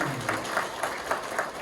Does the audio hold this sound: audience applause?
yes